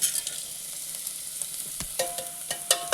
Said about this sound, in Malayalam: ഇത് നല്ലോണം നല്ല രീതിക്ക് ഒന്ന് ഇളക്കി കൊടുക്കണം